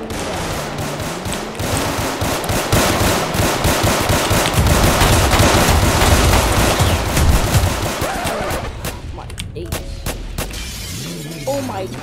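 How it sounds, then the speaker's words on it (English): Sustained video-game gunfire with rapid automatic bursts and scattered shots, loud and continuous through most of the stretch, easing toward the end as a voice briefly talks over it. "I hear shooting over this, so I'm gonna go get it"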